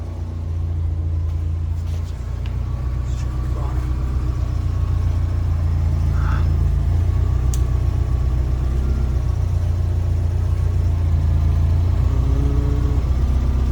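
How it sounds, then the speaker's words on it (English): Mazda Miata engine idling steadily right after starting, close and loud, a low continuous rumble in a garage during a differential swap, with no talking. "All right, just started the car."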